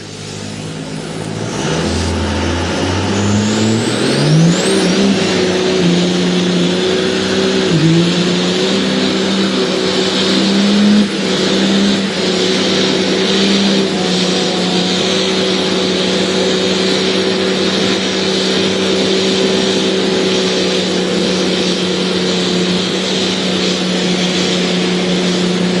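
A Cummins diesel drag truck roars loudly and continuously through a tire burnout at a truck festival in Billings, Montana, its engine climbing through revs early on and then holding a sustained, heavy drone.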